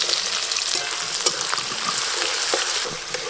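Chopped onions sizzle and crackle steadily in hot oil with a little sugar, a dense continuous hiss close up, broken by occasional stirring scrapes.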